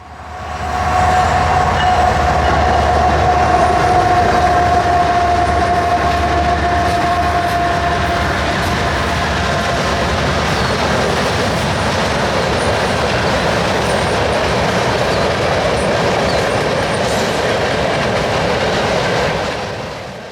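A freight train hauled by Dash 8 locomotives rolls past near a truck stop along the Trans-Canada Highway at night, a loud sustained roar of wheels and cars with clickety-clack and a faint tonal whine early on.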